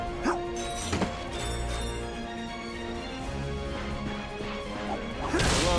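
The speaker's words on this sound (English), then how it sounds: "Look at him smashing crates." Ratchet smashes crates in the Ratchet and Clank game, with a few sharp wooden cracks and whacks scattered over steady background music and effects, a louder crash closing the passage.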